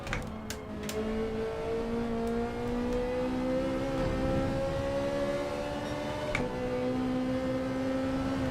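Gr4 Ferrari race car engine in Gran Turismo 7, a steady droning tone that rises and dips slightly with throttle through an online lobby race, continuous and fairly loud with no talk.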